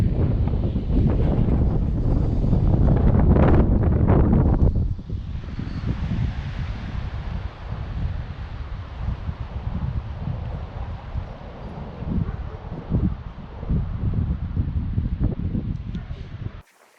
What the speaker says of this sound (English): Oh yeah, it's still really windy.